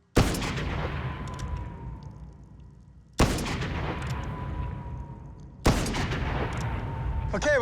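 Three loud gunshots from an iconic Western-style gun fired at a hat target, each a sharp close blast with a long echoing decay, spaced a few seconds apart.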